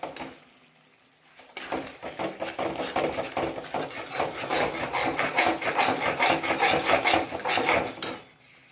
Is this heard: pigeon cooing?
no